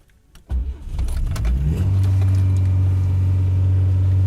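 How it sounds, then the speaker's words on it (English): A VAZ 2109 car engine cranks and starts with a few clicks and clunks, then settles into a loud, steady idle hum close by. "Hear this engine sound."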